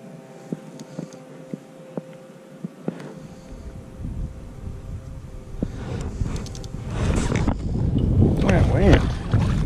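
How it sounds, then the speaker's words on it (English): On Lake Hickory, North Carolina, wind buffets a bass fishing boat in December. The rush builds from quiet to loud, close gusty noise across the second half, with a few light taps early on. "That wind is something today."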